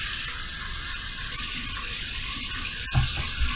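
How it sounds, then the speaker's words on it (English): Tap water runs steadily into a bathroom sink for a face rinse after a shave, a continuous close hiss with a brief splash near the end. "We're going to do my final rinse routine: warm water rinse, cold water rinse"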